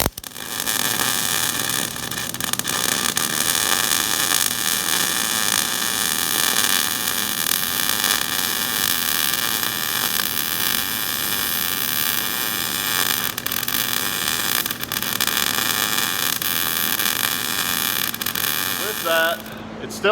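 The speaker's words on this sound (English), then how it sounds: "So I'm going to weld it in." Welding a part into a NASCAR Cup car, a 358 Dodge, in a shop: a steady, close crackling hiss runs almost without a break and cuts off just before the end.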